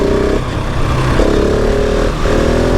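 Husqvarna 701 SM motorcycle engine accelerating hard in third gear, a loud, close, steady rising drone with a couple of pitch drops between shifts, alone with no talk.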